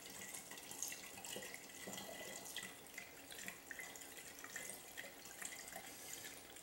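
Bacon-infused bourbon poured slowly from a bottle into a glass, a faint steady liquid trickle with light splashing running throughout, no voices.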